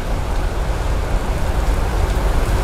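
Steady, loud rain pouring down as dense broadband hiss throughout, close and continuous, with no voices.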